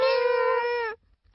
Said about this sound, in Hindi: म्याऊ।